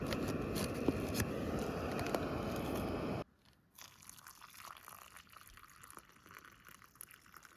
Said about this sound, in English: Just put on some water to boil.